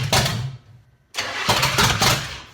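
The engine of Miles the Spyder, a home-built car in a garage, cranks and catches with a loud rough roar, drops out briefly, then fires again and runs raggedly at close range.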